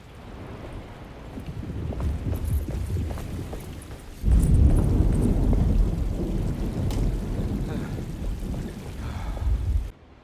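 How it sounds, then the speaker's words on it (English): A storm rolls in with thunder and wind, a low, rumbling roar that grows, then bursts into a louder sustained rush of wind noise and distant thunder before cutting off abruptly. "Just keeping an eye out for the storm. Radio says it could be a wild one."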